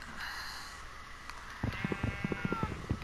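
Several sheep bleat in a blocky survival-crafting video game, a run of short, close calls arriving in quick rhythm over a low background hum.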